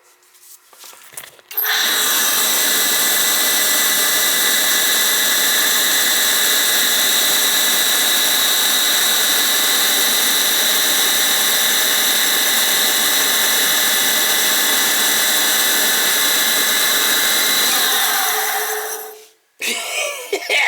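Heating system motor at a cold summer home with no heat spins up after a short start and runs as a loud, rough, steady whine and rumble for about seventeen seconds before cutting out abruptly.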